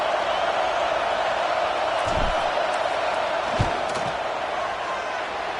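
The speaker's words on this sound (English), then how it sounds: "This crowd trying to do its part to get inside the kicker's head." Dense, steady roar of a stadium crowd at a college football game just before a field goal attempt, with a couple of brief low thuds rising out of the constant noise.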